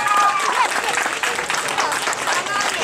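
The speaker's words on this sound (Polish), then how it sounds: "Bardzo brawo." An audience claps at a school robotics presentation of the "Mały malarz" painting robot, steady close applause filling the whole stretch with a few voices mixed in.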